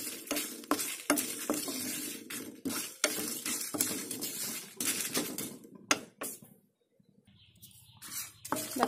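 Spices dry-roasted in a pan for a mixed vegetable pickle, with repeated close scraping and stirring strokes of a spatula against the pan, a brief pause near the end, no talk.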